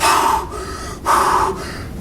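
Deep, forceful inhale through the nose during a breathing exercise, two strong breaths a second apart, close and loud with brief pauses between them.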